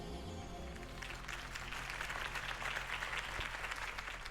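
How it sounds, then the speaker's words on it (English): A crowd applauds after Harvey Dent's campaign speech in Telltale's Batman game: a steady, dense wash of clapping held at an even level over a low musical drone. "If only Mr. Wayne, my campaign's largest backer, could have heard that applause"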